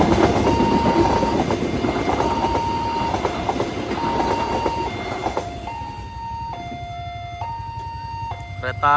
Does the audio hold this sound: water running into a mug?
no